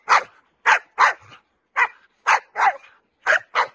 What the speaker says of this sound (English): Stay there, stationary, and bark on command when we tell you